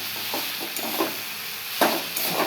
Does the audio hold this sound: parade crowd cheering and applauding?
no